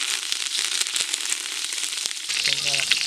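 Curry leaves dropped into hot oil for curd rice tempering, a bright crackling sizzle with sharp pops, close and fairly loud, ending with a brief tonal squeak.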